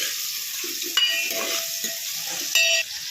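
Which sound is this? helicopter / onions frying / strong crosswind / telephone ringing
onions frying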